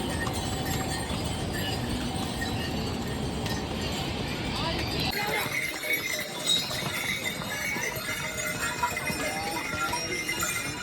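A horse's hooves clip-clop along in a steady walking rhythm on a steep Kedarnath pilgrimage trail, set against a noisy outdoor background.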